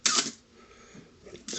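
The shutter of a 1981 Canon AE-1 Program 35mm SLR suffering from the cough fault snaps sharply at the start and again at the end, with a faint mechanical whir between the two close-up clacks.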